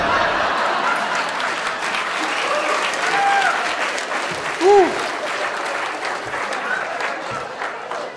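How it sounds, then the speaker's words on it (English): An audience bursts into applause at a talk, a broad steady wash of clapping filling the whole stretch, with a few faint whoops or chuckles rising briefly above it. "I was kind of hoping that would not draw an applause line."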